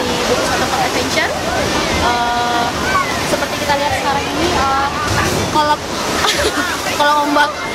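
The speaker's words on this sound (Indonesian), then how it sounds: "kolam ombak ini sendiri memiliki sensasi ombak" Water churns and crashes steadily in a newly opened wave pool at a water park, a constant rushing wash with crowd noise and someone talking over it.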